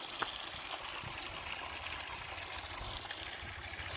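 Irrigation water running from a pipeline into a field at night, a faint, steady trickling flow heard from close by, with no talking.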